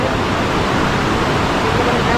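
River water rushes downhill at full volume on a road trip to Athirappally, a dense and steady roar of flowing water with no break throughout.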